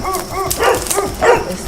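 Thin, emaciated dogs kept on a property bark and yip in several quick overlapping bursts, close and fairly loud, with a whimpering edge.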